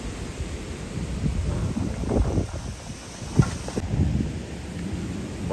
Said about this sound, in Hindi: और फिर से आंधी भी इतनी तेज़ हो गई है।